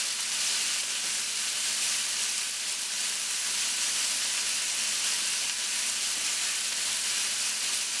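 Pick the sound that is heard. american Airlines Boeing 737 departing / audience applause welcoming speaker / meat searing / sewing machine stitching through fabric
meat searing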